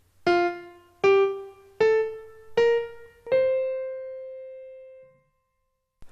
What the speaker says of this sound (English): that means staccato. You play them short and dry